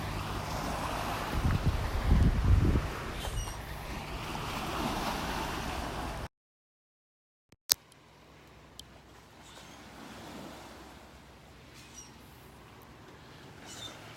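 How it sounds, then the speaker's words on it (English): Soft, steady wash of small waves lapping at the shore of a beach in North Naples, Florida, with a breezy rumble early on and a brief gap partway through. "You can hear the waves lapping on the shore here."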